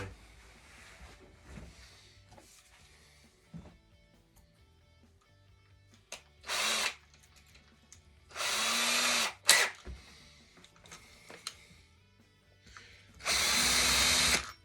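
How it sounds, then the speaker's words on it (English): Cordless power drill driving screws into a replacement T-style guitar body, with several loud whirring bursts of a few seconds each between quieter workshop handling noises, close by. "Where's my drill? There's my drill."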